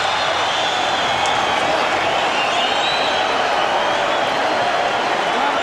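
A steady, dense roar from a boxing arena crowd at the 2002 Arturo Gatti vs Micky Ward fight, loud and unbroken throughout with no distinct claps or pauses.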